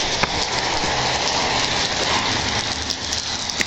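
Steady rain pours down heavily and close by, a dense continuous hiss of drops hitting surfaces, including an umbrella, with no voices over it.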